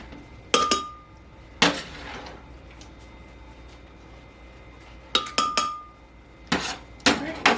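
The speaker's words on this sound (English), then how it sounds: "So I'm just going to scoop it in." Salsa ingredients for black bean and corn salsa scooped into a pot, giving several sharp clinks and knocks in two clusters, close and fairly loud, with quiet gaps between.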